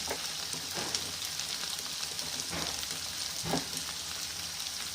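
Leftover idli pieces fry in oil, giving a steady close sizzle and crackle with occasional soft stirring scrapes, no voices over it.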